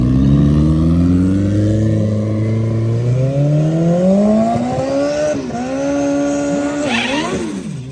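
Drag racing motorcycles launch and accelerate hard down a straight strip at a dragway, loud rising engine tones climbing through the gears with shift breaks, close and sustained over roughly eight seconds.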